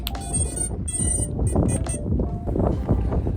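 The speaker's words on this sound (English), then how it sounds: "Once again, it's extremely windy." Steady, heavy wind rushes and buffets across the microphone with a low rumble, gusting throughout the short stretch at an FPV drone flying spot.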